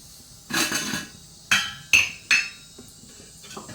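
A metal kadai is set on a stove in a home kitchen while making potato rice: a soft scrape, then three sharp, close metallic clanks in quick succession, followed by faint clinks.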